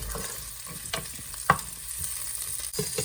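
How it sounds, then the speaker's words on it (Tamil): Capsicum frying in oil in a pan for pav bhaji, a steady close sizzle with scattered stirring scrapes and one sharp clink of a utensil midway. "இது ஆயிலில் ஃப்ரை பண்ணி பண்ணுறது"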